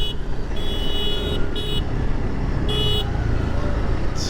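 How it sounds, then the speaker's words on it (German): Police cars honking in Pakistan traffic, repeated short horn blasts from close behind over a loud engine and road rumble, with speech in the background. "Jetzt hupen die mich die ganze Zeit an."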